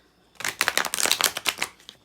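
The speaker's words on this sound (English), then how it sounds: "give me just a moment to shuffle." Tarot cards being riffled and shuffled nearby, a rapid flurry of crisp flicking and slapping lasting under two seconds, with no talking.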